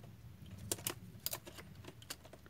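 A Dell Inspiron 1525 laptop keyboard is pressed and snapped into its slot, giving several sharp plastic clicks and taps in an uneven cluster, close and fairly faint over a low background hum.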